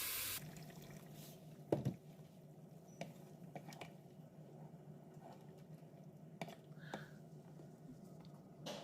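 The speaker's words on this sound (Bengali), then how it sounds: "তারপর আমি দিয়ে দিলাম পরিমাণ মতন গরম পানি।" Hot water is poured into a pan of pasta and rice fried crisp in ghee, giving a quiet, steady running and splashing that fades into a low simmering hiss, with a few utensil knocks.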